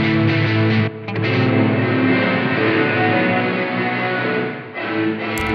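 Electric guitar through the plate reverb of a Blackstar St James amp sim. Sustained strummed chords ring with an airy wash, dip briefly, then swell again. Loud and alone.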